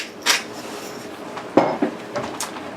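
A metal lid goes onto an iron skillet of frittata with rainbow peppercorns over low heat, giving one near clank with a short rattle, a few lighter knocks and scrapes before and after, and no talking.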